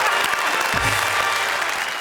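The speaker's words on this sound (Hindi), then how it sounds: "जोरदार तालियां।" Applause from a studio audience at a Hindi comedy poetry show: dense, steady clapping that fills the whole moment at an even, moderately loud level, with no voices over it.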